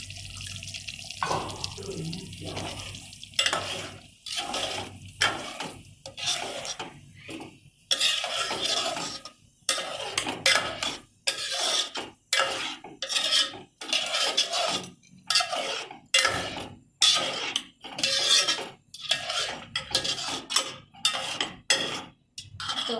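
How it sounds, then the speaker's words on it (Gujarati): A spoon stirs water into a pot of legume curry, sending repeated wet sloshes and scrapes in irregular bursts with short pauses between strokes, close and fairly loud, with no talking. "અને પછી થોડુંક પાણી મિક્સ કરીશું."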